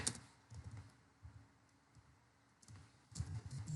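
Typing on a computer keyboard, heard as irregular bursts of close, light key clicks separated by short pauses, with a denser flurry of keystrokes near the end.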